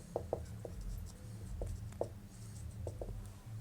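Pen or chalk scratching out a class 12 maths differentiation solution, in short irregular strokes with small taps, close and fairly quiet over low background noise.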